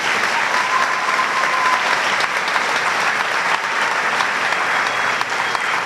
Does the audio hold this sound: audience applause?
yes